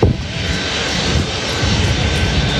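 An airplane takes off, its engine roar loud, broad and sustained throughout, heard from nearby with no voices.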